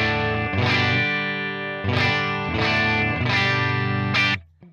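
Overdriven electric guitar through an AC30 amp and a signature impulse response, four loud strummed chords that sustain and ring, ending with an abrupt muted stop.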